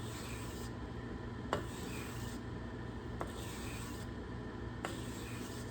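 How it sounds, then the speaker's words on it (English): A card scraper edge is sanded flat on 320 grit sandpaper, with steady rhythmic rubbing strokes, each pass a soft gritty scrape with a faint click at the turn, close and quiet. "I'm going to sand this edge flat, just like using a file, only sandpaper."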